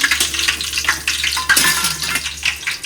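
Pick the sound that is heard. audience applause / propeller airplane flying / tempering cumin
tempering cumin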